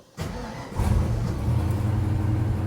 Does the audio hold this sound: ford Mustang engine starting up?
yes